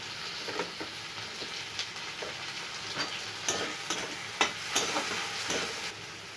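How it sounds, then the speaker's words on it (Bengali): Cumin and nigella seeds sizzle in hot oil for an egg and pointed gourd curry, with garlic, ginger and tomato going in: a steady close frying hiss broken by small pops and scrapes of stirring, no voices. "তো আমি একটু জিরে ফোড়ন দিয়ে দিচ্ছি পেঁয়াজ ফোড়ন দিচ্ছি"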